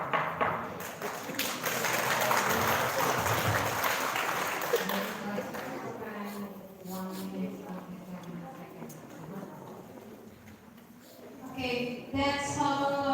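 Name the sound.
audience applause after a debate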